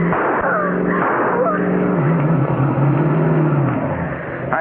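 A car races across lawns and fields in a 1940s radio drama, its engine roaring loudly and steadily throughout, with a slight shifting whine and a fade toward the end.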